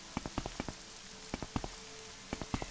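Rain in the video game Morrowind, a steady patter of droplets with clusters of sharper splashes arriving in irregular bursts.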